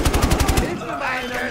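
Loud rapid automatic gunfire from the shooter game Battlefield Hardline on PC, a burst of about seven close shots that ends abruptly and leaves a brief tail of echo and faint game ambience.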